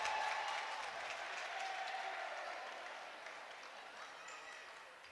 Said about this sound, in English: students who are coloured, painted, flagged, uniformed, and cheering on a team with an 8-point deficit